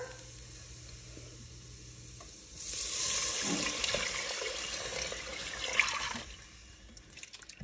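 Water pours into a kale soup mixture in a kitchen pot, a steady rushing splash lasting a few seconds over quiet background noise, then stopping.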